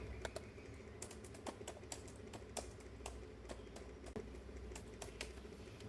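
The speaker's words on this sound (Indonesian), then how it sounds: "lalu kita ketik seperti ini perintahnya" Keys clatter on a computer keyboard as a command is typed, a quiet, irregular stream of sharp clicks with brief pauses over a faint background hum.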